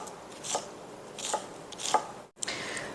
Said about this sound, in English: you just want to go ahead and cut it up into small bite-sized pieces